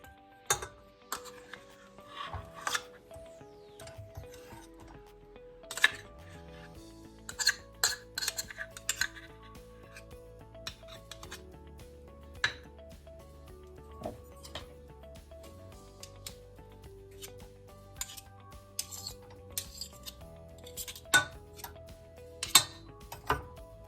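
Shortening and sugar for molasses drop cookies land in a mixing bowl, with scattered clinks and soft scrapes of utensils against the bowl over about twenty-four seconds, close and fairly quiet, no talking.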